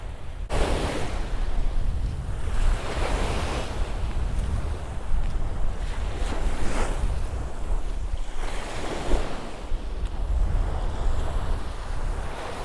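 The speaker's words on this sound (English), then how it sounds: "You hear this surf, and it's a beautiful sound." Steady ocean surf at Indianola Beach, Texas washes and rolls continuously, with waves swelling and breaking in gentle surges over a constant wind-blown roar.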